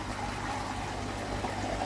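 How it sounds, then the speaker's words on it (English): A water pump pushing out a steady flow of water close to overflowing, a continuous gushing, trickling wash with a low steady hum underneath, heard alone without talk. "I think it's pumping way too much water."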